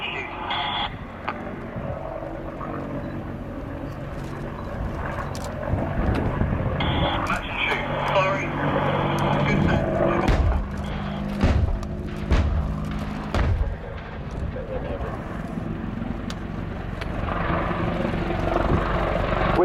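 A Westland WAH-64D Longbow Apache AH1 attack helicopter of the British Army flies a display at an airshow, its steady rotor and engine roar filling the air at a distance, overlaid by a commentator's amplified voice.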